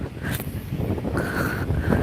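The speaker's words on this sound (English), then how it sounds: "it's very windy where I am" Strong wind buffets an outdoor microphone on a walk, a steady loud roar with gusty swells throughout, and no voices over it.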